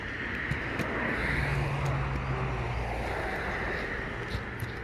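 A car driving through the woods, a continuous rumbling engine and road noise heard from inside the vehicle, with steady low-frequency roar and some wind buffeting throughout.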